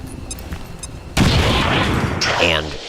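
A grenade explosion in the video game XCOM: after a quiet stretch, one sudden loud blast erupts and rumbles on with debris and a high whistling tail.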